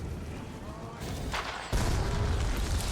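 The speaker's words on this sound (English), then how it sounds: "And of course he has explosions." Explosions in the video game Middle-earth: Shadow of War, heavy booming blasts rumbling over continuous battle noise, with a loud deep burst near the end.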